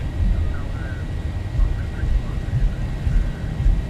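Boeing 737 engines spool up toward takeoff thrust in a flight simulator, a steady loud low roar with a faint high whine, continuous and even from start to finish.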